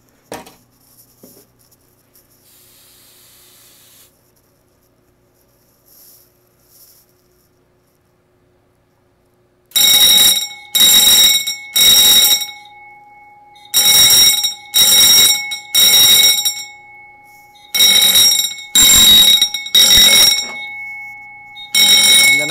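An SK 5208 smoke detector under test sounds its alarm in loud, piercing pulsed bursts, near and repeating in groups of three after a mostly quiet stretch with faint handling noise.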